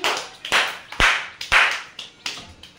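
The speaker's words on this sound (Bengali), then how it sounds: "হাততালি দাও সবাই।" Children clap after a times-table recitation contest, a few separate bursts of hand claps arriving roughly every half second, some sharp single slaps and others ragged and overlapping, close and moderately loud with quiet gaps between.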